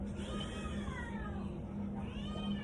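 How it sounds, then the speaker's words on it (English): Cats meow in a workshop, drawn-out wavering cries rising and falling over a steady low hum, faint and somewhat distant, with no speech. "You can maybe hear the cats going."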